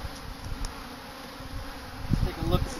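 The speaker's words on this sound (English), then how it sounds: "these are just bees just looking for food" Bees buzz around a hive during a late winter apiary check, a faint, steady hum with scattered louder passes close by.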